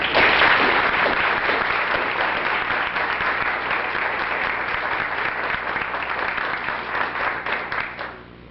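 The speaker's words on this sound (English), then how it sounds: "please join me in a round of applause for all of our teachers" A room full of people at a chamber of commerce legislative wrap-up event gives teachers a loud round of applause, strong at first and slowly tapering over about eight seconds.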